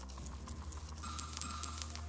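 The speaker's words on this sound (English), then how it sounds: "Drop zone 4 for Rafa, please." A counter drops into the Tipping Point game show machine, clinking and rattling briefly as it falls into the drop zone, a short metallic jingle over a low steady hum, with no talk.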